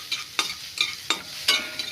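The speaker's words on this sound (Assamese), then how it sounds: "অলপ গোন্ধ ওলোৱাকৈ ভাজিব লাগিব" Curry paste frying in a pan, a soft sizzle broken by several sharp scraping stirs of a spatula at roughly even intervals, close and clear with no voices.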